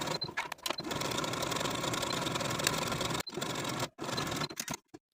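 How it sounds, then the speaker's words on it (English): Sewing machine stitching a seam on a Cashmerette Mercier jumpsuit tie piece with backstitching, a fast steady mechanical whir that starts, runs continuously, then stops and restarts in short bursts near the end. "Now sew the short edge and the long edge just to the snip that we created, backstitching to secure."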